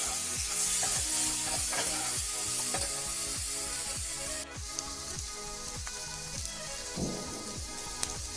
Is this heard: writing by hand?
no